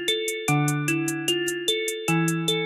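Closed hi-hat ticking steadily on every second step of a programmed beat, crisp bright taps repeating evenly over sustained synth chords and a bass line, fairly loud with no voices.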